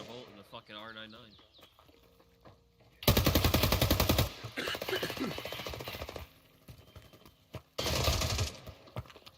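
Bursts of rapid automatic gunfire from an R99 submachine gun and a Volt in an online shooter, two loud sustained volleys with a shorter burst after, over quieter game sounds and a talking voice.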